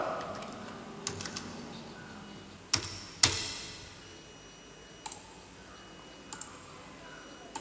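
Keystrokes on a computer keyboard, sparse and quiet, a handful of soft clicks spread out with a couple of sharper, louder taps near the middle against a faint background hum.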